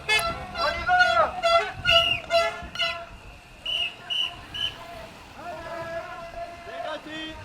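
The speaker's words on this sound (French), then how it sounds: "On klaxonne un coup, on y va, on klaxonne." Car horns toot repeatedly in a loud, rhythmic series of short blasts at a free-toll protest at the Île de Ré bridge toll near La Rochelle, with voices around.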